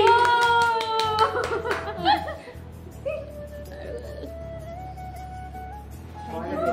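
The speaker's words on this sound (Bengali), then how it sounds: "হাততালি।" Small group of people clapping at a modest indoor celebration, a burst of applause at the start that fades into chatter and light laughter, with voices talking over the background.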